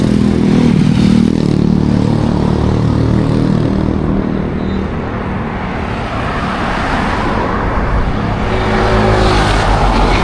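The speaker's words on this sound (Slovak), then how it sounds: "Momentálne sa nachádzame na Taclobane, aspoň vidíte, že aká tu je premávka." Busy road traffic in Tacloban, Philippines, with cars and motorcycles passing close in a loud, continuous roar. Engines swell and fade throughout.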